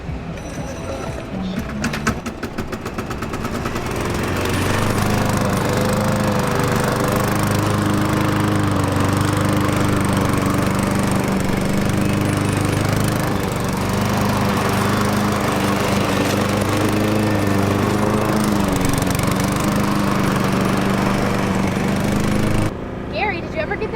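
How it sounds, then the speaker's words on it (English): A robot lawnmower runs for most of the stretch with a steady, loud motor drone that starts up after a few seconds and cuts off near the end, with faint rattling mixed in. "is going to show us this robot lawnmower"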